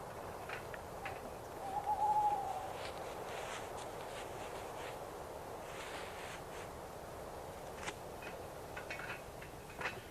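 An owl calls in a forest, a faint, distant hoot rising briefly over a steady hush of background ambience, with a few soft chirps scattered later.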